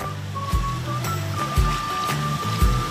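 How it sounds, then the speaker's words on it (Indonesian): A river runs through the village of Kolot in Cilawu, Garut, with a continuous rushing flow broken by several sharp splashes and thuds close by, and no one speaking. "Kata Kang Rosadi, sungai yang mengalir di desa Kolot Cilawu Garut ini banyak ikannya."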